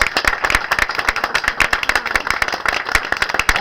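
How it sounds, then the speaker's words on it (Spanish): A church congregation claps loudly and fast in a strong, continuous round of applause, with sharp individual claps close by and dense clapping throughout. "Denle un aplauso fuerte esta mañana."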